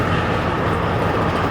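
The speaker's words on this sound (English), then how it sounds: "The connector train is right here." A regional connector train at Hof station produces a loud, steady, broadband rumble with no distinct events.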